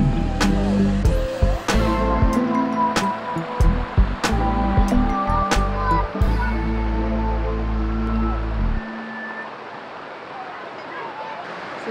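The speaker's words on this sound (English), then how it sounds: "We just walked up on this little creek waterfall." A small creek waterfall flows with a steady broadband rush. For the first nine seconds strong tonal sounds partly mask it, and then the water continues alone, close and fairly loud.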